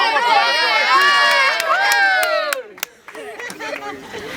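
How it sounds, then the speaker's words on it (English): A children's soccer team shouts its cheer together, loud overlapping young voices rising in a burst, then breaking into scattered yelling, claps and chatter. "Okay, guys, get together and do your cheer."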